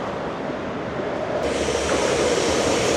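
An Intercity train in Greece rolls into the platform at Koropi station fast, with a rising, rushing roar and hiss, steady and fairly close, growing louder.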